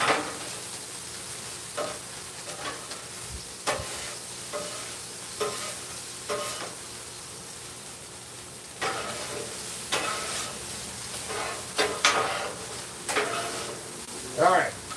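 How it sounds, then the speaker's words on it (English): Rice stir-fried with meats and veggies in a hot pan, a steady sizzle and frying hiss with repeated scraping and stirring strokes, close and continuous throughout. "we are still trying to fry this rice a little bit"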